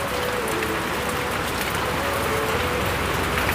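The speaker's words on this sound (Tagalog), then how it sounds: "Grabe, inabot na tayo ng ulan ha." Rain pouring down outdoors, a dense, steady, even hiss of drops on surfaces that continues without a break, loud and close.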